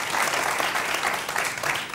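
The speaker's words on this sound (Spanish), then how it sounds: "un aplauso para él" At a Canarian folk music gathering, an audience gives dense, continuous applause, loud and unbroken for the whole short stretch.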